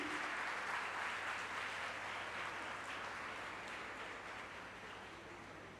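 A graduation ceremony audience applauds steadily throughout, dense and loud, with the clapping easing only slightly toward the end.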